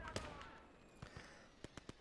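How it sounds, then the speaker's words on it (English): In the World War II strategy game Gates of Hell: Ostfront, a mine detonates with a sharp bang, followed by several quieter, distant thuds and blasts scattered through the brief battlefield moment. "Got killed by a mine."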